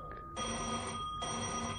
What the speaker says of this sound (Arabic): رد على التليفون